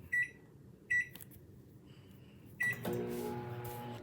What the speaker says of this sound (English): Microwave for 4 minutes or until golden and bubbling.